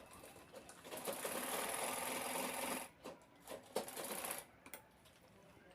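A sewing machine runs in a steady fast stitching burst while sewing the belt of an old gown, then stops and restarts in short bursts.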